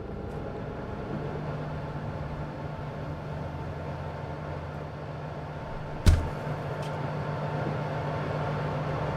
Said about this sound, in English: It's a noisy oven.